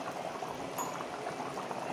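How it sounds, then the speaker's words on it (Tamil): Water boiling in a cooking pot while making prawn thokku, a steady close bubbling and seething that carries on without a break and with no talk. "இப்போ கொதிக்குது, இதை மூடி வைக்கலாம்."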